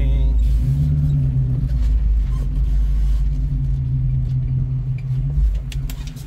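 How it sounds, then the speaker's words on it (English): A 1966 Ford Mustang hardtop with a 289 V8 and Flowmaster 40 exhaust rumbles steadily at idle nearby, a deep, loud burble with a slight swell partway through and no talking over it. "So Flowmaster 40 on a 289 sounds amazing."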